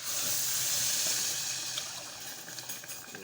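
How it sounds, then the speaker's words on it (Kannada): Water pours steadily into a pot of rice for pulao, a close, continuous splashing rush that gradually softens and thins toward the end, with no talking. "ಒಂದು ಅಕ್ಕಿಗೆ ಮೂರು ನೀರು ಹಾಕ್ತೀವಿ ನೋಡ್ರಿ"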